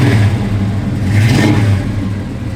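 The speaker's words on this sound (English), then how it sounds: "Give a little rev, Dale." A 1970 Buick GS Stage 1 V8 revving close by, a deep, loud rumble that swells in one blip and settles back to a steady idle.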